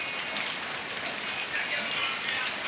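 Steady rain pouring down at a village home, a dense even hiss of drops on surfaces, close and continuous with no pauses.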